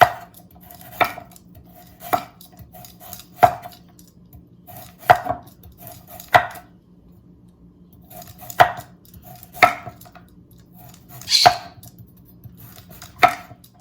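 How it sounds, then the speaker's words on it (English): A knife slicing carrots thinly on the diagonal against a cutting board, about a dozen crisp chops at irregular intervals, close and clear with quiet pauses between. "my carrots, I'm gonna cut on the diagonal and just make little carrot slices, pretty thin"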